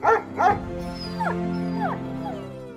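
A dog gives two quick barks up close, then a series of high, wavering whimpers and whines.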